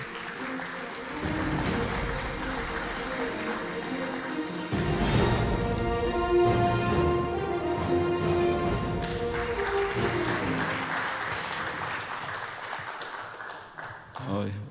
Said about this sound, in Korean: 여러분 뜨거운 박수로 맞이해 주시기 바랍니다.